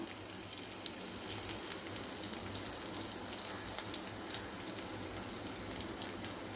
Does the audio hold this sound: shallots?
yes